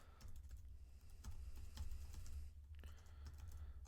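A user email being typed on a computer keyboard, rapid close key clicks in quick bursts with short pauses, fairly quiet over a low background rumble.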